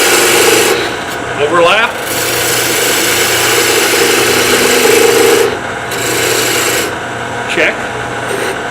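A parting tool cuts into wood spinning on a lathe, giving a rough scraping rasp over the motor's steady hum. The cuts come in bursts with pauses, and a voice speaks briefly between them.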